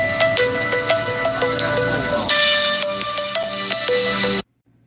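A phone ringtone announcing an incoming call inside the cab of a Cat 317 excavator on a farm demolition site, a repeating electronic melody ringing loud and clear for several seconds before cutting off abruptly.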